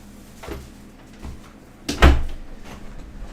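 A cat bumps and rattles against an indoor door, producing a few soft thuds followed by one sharper knock, close and otherwise quiet.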